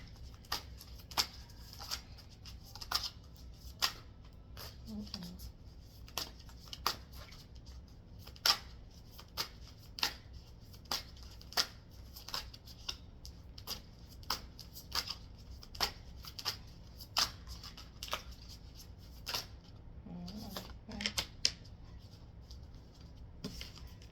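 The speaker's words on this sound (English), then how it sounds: "I already pre-shuffled this deck, but I need to mix it up again." A deck of playing cards being shuffled by hand, a steady run of crisp riffling snaps and flutters repeating through the whole stretch, close and fairly quiet, with no talking.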